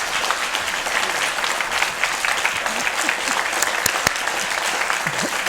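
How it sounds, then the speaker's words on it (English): A concert hall audience applauds cellist Alex after a cello concerto, a steady dense wash of many hands clapping at moderate distance, with a few sharper nearby claps standing out. "This applause is saying, "Thank you, Alex.""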